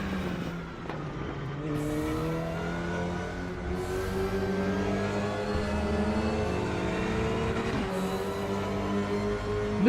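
Race car engine in RaceRoom Racing Experience holding a steady, loud drone with rising harmonics as it accelerates through the gears, a continuous near whine with no talk over it.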